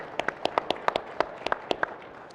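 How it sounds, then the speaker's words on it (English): A small, sparse round of applause at an agricultural innovation event, a dozen or so distinct hand claps spread unevenly over two seconds, fairly quiet and without voices. "Let's give him a round of applause to David."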